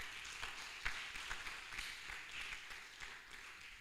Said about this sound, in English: Shall we please give them a round of applause?